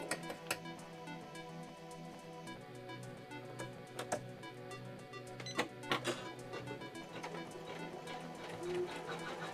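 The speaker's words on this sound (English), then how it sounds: "it'll stitch out the Sinclair logo" An embroidery machine stitches out a Sinclair logo with steady, rhythmic mechanical chatter. A low motor hum runs underneath, and sharp clicks and ticks recur through it, close and moderately loud.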